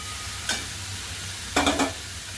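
Spoon stirring a banana flower and onion mixture in a hot pan: two scraping stirs, one short and one longer, over a steady sizzle up close, with no one talking.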